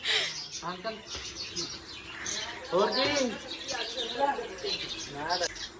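Sparrows chirp busily at a family home, many quick high tweets and short calls overlapping close by in a lively, uneven chatter from start to finish.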